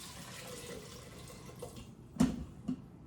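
Broth pouring into an Instant Pot for split urad dal risotto, a soft, steady liquid trickle close by, ending in a couple of brief splashes, with no voices.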